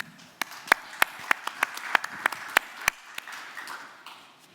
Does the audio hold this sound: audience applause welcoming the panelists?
yes